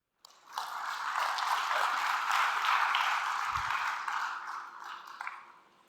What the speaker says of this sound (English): give us a round of applause for Joshua Maddux, please.